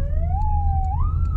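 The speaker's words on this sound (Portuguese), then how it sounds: "vamos estrear nossa buzina nova" A new siren-style car horn wails steadily and loudly, its pitch rising and stepping up like a police siren over a low rumbling idle, with no one speaking.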